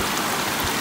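Rushing water in a brook at a beaver slide, a dense, steady wash of flowing water filling the brief moment, close and loud with no voices.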